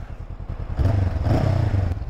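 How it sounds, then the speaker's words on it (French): Twin-cylinder engine of a 2024 Honda CB500 Hornet with dual-outlet exhaust, a steady low rumble that swells and holds loud after a short quieter stretch, with some mechanical clatter. "Il y a aussi cette petite sonorité là du bi avec l'échappement à double sortie"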